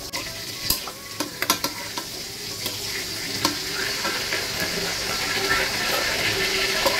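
Pangas fish frying in oil in a pan, a dense continuous sizzle close by, with sharp utensil knocks and clatters early on and a steady hiss building toward the end.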